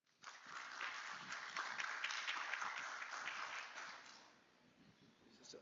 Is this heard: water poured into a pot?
no